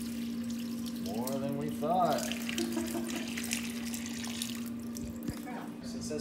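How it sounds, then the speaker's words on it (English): Tap water runs steadily into a film processing tank during hand development of 16mm film, a continuous splashing hiss under a steady hum, with brief sounds of someone moving nearby. "we'll run some more water through there"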